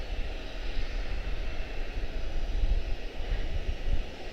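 A Boeing 737-800 airliner at Charlotte airport, its engines giving a steady broadband roar that holds level throughout with no voices over it.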